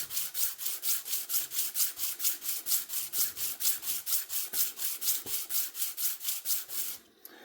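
Steady back-and-forth rasping of sandpaper worked by hand over the scale of a Kizer Quest folding knife, about four strokes per second, close and even, ending abruptly with a small tap.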